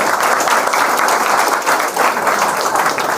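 Audience applause at a Hindi-language talk about a sub engineer's exam results, a dense steady wash of many hands clapping together, loud and close, continuing without a break.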